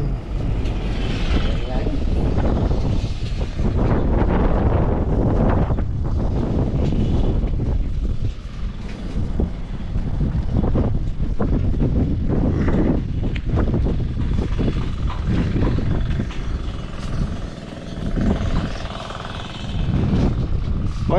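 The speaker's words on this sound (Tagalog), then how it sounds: "Lakas ng hangin." Strong wind roars and buffets the microphone steadily throughout, with a voice speaking faintly underneath.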